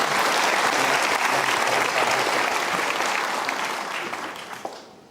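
Steady applause from a crowd at a motivational talk, a dense wash of clapping that holds strong and then gradually thins out toward the end.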